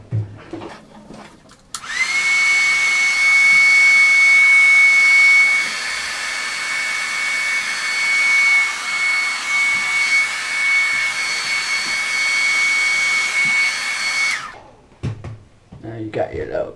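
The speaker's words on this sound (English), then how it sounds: "Now to make it dry, you need a blow dryer." An electric blow dryer roars steadily while drying hair for a Halloween look, a loud continuous whine with a thin high tone that starts abruptly, runs about twelve seconds, then switches off, with faint sounds before and after.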